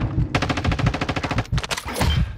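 Rapid automatic gunfire from Call of Duty: Modern Warfare II, a loud close burst of fast repeated shots followed by a shorter volley and a few scattered cracks.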